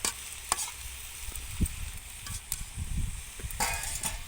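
Food being stirred in a pan just after its lid is lifted, with soft scraping strokes and occasional clinks over a gentle sizzle of vegetables simmering in their own released water.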